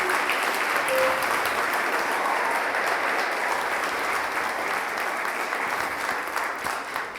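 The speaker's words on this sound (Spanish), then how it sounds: "Dele un aplauso a Jesús, por favor." A church congregation at a Spanish-language service applauds steadily, a dense, even wash of many hands clapping together for several seconds without letting up.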